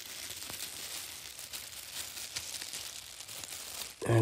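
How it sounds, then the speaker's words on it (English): Thin plastic bag crinkles and rustles in short bursts while being pulled over the top of a moist, unfinished clay udu drum, close and fairly faint, with a louder handling noise at the end. "I take the plastic bag"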